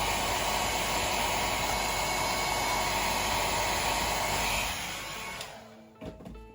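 A hair dryer blows a loud, steady hiss of air to dry paint on a miniature figure, running close and constant before cutting off near the end, followed by a few faint clicks.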